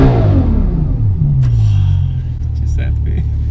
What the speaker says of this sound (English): I'll tell you what is smooth, this V12 engine.